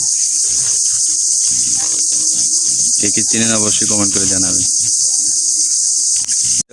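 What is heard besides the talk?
crickets chirping in a village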